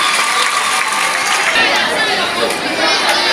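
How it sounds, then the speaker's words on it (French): A crowd at a school launch ceremony in Kinshasa applauds loudly, with dense, continuous clapping mixed with cheering and lively chatter throughout. "Allez, applaudissez très fort, applaudissez."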